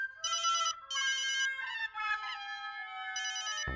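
An electronic phone ringtone plays close and clear in bright, repeating melodic bursts with short gaps, sounding alone until a soft thump at the very end.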